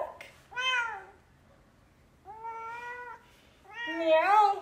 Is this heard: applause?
no